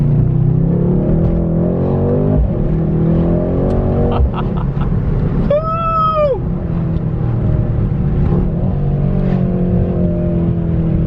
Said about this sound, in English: this thing's got 500 horsepower, twin turbo V8